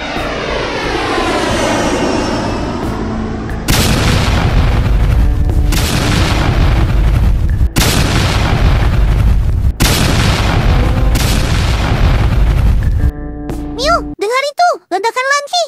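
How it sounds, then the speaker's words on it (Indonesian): Heavy booms from the sky strike in a series of about four loud blasts, a few seconds apart, in the Sakura School Simulator game. A jet's roar runs before and between them, and sharp whistling sweeps follow at the end. "Tapi ini beda, suaranya kayak ledakan dari langit"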